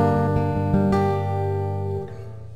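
Acoustic guitar strums a short run of chords, struck a few times in steady rhythm with the notes ringing out, close and clear with no voices.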